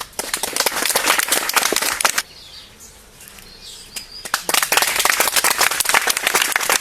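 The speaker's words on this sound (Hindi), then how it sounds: "जोरदार ताली।" A crowd at a political rally claps loudly and sharply, bursts of applause breaking off into a short near-quiet lull before resuming just as strongly to the end.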